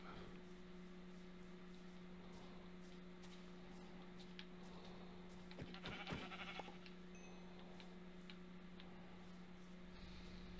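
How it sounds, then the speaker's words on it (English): Sheep bleating in Minecraft, a few short faint calls over a steady electronic hum and soft ticking background, with no voices. "Ooh, sheep."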